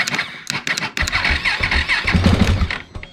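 A Husqvarna 701 motorcycle engine cranks and fires despite an electrical fault, a few quick starter bursts turning into a rough, rising idle close to the listener.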